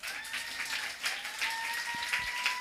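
A church congregation claps at a Christmas service, a faint and distant patter of many hands running steadily beneath a thin, sustained tone.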